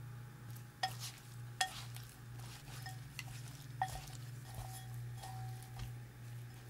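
Chicken pieces are tossed with crispy frying flour in a bowl, with soft irregular clinks and scrapes of a utensil against the dish over a steady low hum, quiet and close.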